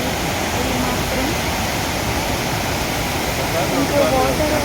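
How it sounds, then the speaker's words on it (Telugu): Pykara waterfall gives a steady, dense rush of falling water, a continuous broadband roar that stays loud and even throughout with no break. "చాలా బాగుంది వాటర్ సౌండ్ కూడా"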